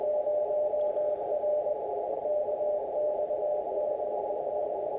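Radio signal from a ham receiver heard through a 600 hertz audio filter: a steady, narrow, continuous tone holding at a moderate level for the whole stretch, with a faint hiss behind it and no talk.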